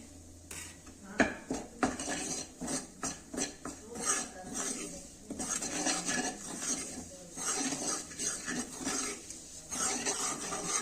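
A metal spoon stirs gram flour roasting in ghee in a pan over a slow fire for homemade sweets, making repeated rhythmic scrapes and clinks against the metal, close and fairly loud, with no talking.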